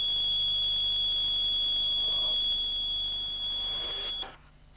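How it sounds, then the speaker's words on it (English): A steady high-pitched electronic warning buzzer on an Agricomplex FX Series agricultural machine sounds continuously for about four seconds, then cuts off abruptly, leaving quiet background hum. "the warning light will start flashing and the buzzer will sound"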